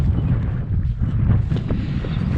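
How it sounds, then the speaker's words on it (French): Wind blowing outdoors in the Vosges mountains, a steady low rumble of gusts buffeting the microphone, loud and continuous throughout with no voices. "Et bon, le vent se lève."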